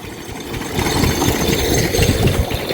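A two-wheeled engine drives a water pump irrigating paddy fields in rural Punjab, chugging steadily and loudly with a rough low rumble throughout.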